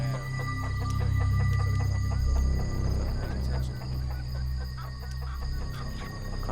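Chickens in a caged coop set out as python bait in Florida cluck and fuss steadily at close range, with scattered sharp calls over a low rumbling background.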